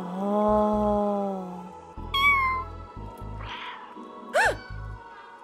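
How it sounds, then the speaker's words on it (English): A cat in a video game lets out a string of meows: a long drawn-out call, then a sharp rising yowl and a shorter strained cry, with soft thumps between them and no voices. "That was not a cute meow."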